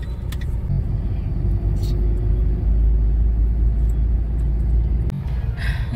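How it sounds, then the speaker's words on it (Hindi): A vehicle passes at speed on a road at dusk, a loud, steady low rumble of engine and tyres that swells close by and then cuts off abruptly. "कितना स्पीड में गाड़ी आई"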